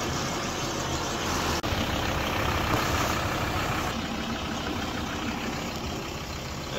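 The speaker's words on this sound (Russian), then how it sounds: "И вот, собственно, звук мотора после замены ремня ГРМ." A car engine runs steadily after a timing belt replacement, a dense, constant rumble heard up close without any pauses.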